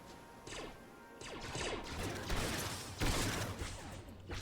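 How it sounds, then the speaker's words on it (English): Rapid bursts of blaster fire crackle through an Arma 3 Star Wars mod battle, several sharp shots and volleys piling up loud and close, with heavier blasts near the end and no voices. "Hearing more blaster fire"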